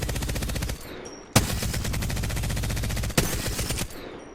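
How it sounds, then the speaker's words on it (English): The Devotion light machine gun in Apex Legends fires in long rapid bursts, a dense fast rattle of shots with a brief pause between strings, loud and close. "I love the Devotion sound"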